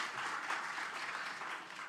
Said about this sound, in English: A hand clap for Madam Shifa.